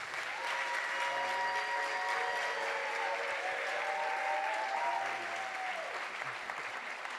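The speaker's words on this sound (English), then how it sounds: "can we just give a round of applause for Honcho, y'all?" An audience applauds at a live culture talk event, a steady, dense wash of clapping that runs the whole time, with a few cheers and whoops rising through it.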